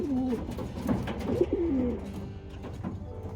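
A racing pigeon coos close by, several soft rolling calls in a row with short pauses, clear and fairly loud over a faint background of other birds.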